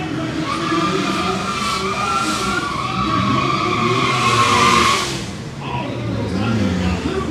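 A Suzuki Sidekick and a Samurai launch side by side at a dragstrip, their engines roaring loudly as they climb in pitch and then ease off, with crowd noise mixed in.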